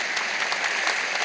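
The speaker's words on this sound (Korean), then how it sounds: "여러분 크게 박수로 환영하시죠." A church congregation at a Sunday worship service applauds to welcome children, giving a brief burst of full, continuous clapping from many hands in a large room.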